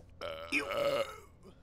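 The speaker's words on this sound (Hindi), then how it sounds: "ये डकारना बंद कर डर्टी पिग" A man lets out a single loud, drawn-out burp, a croaky, rumbling belch lasting under a second, close and clear against a quiet background.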